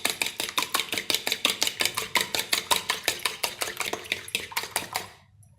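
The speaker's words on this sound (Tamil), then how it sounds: "இப்போ இதை நல்லா கலக்கிப்போம்." Rapid rhythmic clinking of a utensil beating eggs with chopped garlic, ginger and coriander leaves in a bowl, steady fast strokes close up, stopping near the end.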